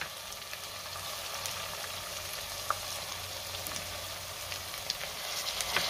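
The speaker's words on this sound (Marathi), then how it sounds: "आणि पुन्हा चांगलं 2 मिनटं परतून घ्यायचं आहे, म्हणजे टोमॅटो थोडासा मऊ होईल।" Tomato with finely chopped coriander and mint sautéing in a pan for masoor pulao, giving a steady, moderate sizzle and crackle with a few small pops, alone and without speech.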